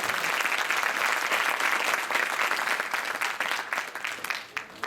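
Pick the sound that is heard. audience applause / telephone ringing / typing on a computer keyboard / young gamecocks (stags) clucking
audience applause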